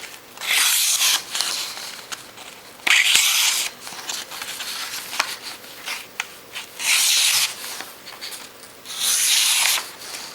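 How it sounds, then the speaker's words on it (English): A Smith & Wesson kukri blade is drawn along a sharpening steel in repeated close, gritty scraping strokes, coming in bursts of a second or two with quiet gaps between and no talking. "That was just with a steel. I just sharpened that up quite quickly."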